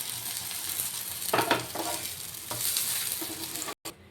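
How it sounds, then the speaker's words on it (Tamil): Eggplants frying in hot oil give a steady, close sizzling hiss with a few louder crackling bursts, then a brief cutout near the end. "எல்லா கத்திரிக்காயும் இதே மாதிரி ஃப்ரை பண்ணி எடுத்துக்கிடுங்க"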